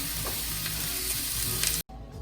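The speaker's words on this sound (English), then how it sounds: "I love that sizzle." Ground beef sizzles loudly in a hot pan as it browns for a chili cornbread casserole, with occasional stirring scrapes. The frying is close and steady, then cuts off abruptly near the end before resuming more faintly.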